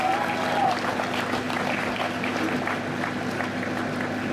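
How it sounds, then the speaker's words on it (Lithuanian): Audience applause at a Lithuanian political party gathering in Samogitia, a dense steady clapping sustained throughout with a faint whistle near the start. "Aplodismentai jiems. Dar audringesni,"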